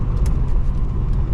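Holden VK SS Group A 'Blue Meanie' from the mid-1980s, 196 kW and 412 Nm, heard as a steady low engine rumble from inside the car, a short continuous drone with no voices.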